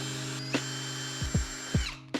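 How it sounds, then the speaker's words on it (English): A steady high power drill whine runs throughout, broken by several short low thumps and clicks as the drill bites into a Toyota Tacoma dash mount, close by. "we want to drill each of the 4 holes here that we just marked"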